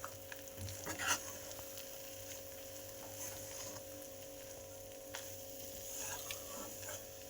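Bajra flour sukhdi is stirred in a pan with a soft, continuous scraping and faint sizzle, quiet and close, with a few slightly louder scrapes near the start.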